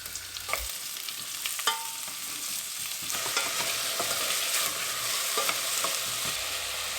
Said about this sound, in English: First, I'm going to saute my vegetables in mix of vegetable and olive oil.